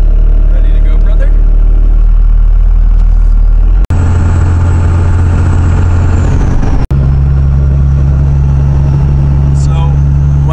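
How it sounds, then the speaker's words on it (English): A 2nd Gen 24 valve Cummins diesel pickup truck engine running close by, a heavy, steady low rumble with abrupt edits between takes and a voice heard at times over it. "I just want you to hear how monstrous this thing sounds."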